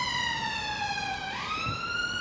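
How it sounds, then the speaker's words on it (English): An ambulance siren wails near Stanley Park in Blackpool, a clear, steady, fairly close tone that sweeps downward and then climbs again, alone over faint traffic. "another ambulance"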